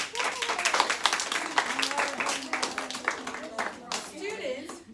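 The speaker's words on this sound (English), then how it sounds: "Give yourselves a round of applause." Sixth-grade students at a middle school clap in a quick, uneven patter that rises and then tapers off, moderately loud, with voices talking underneath.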